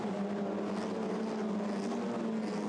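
TCR touring race cars pull away together at the start at Monza, a dense, steady roar of many engines rising in revs without any audible talk.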